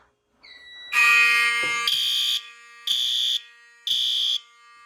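A loud electronic fire alarm blares in a basement alarm system test, starting with a rising tone and then pulsing in repeated shrill bursts with short gaps between them.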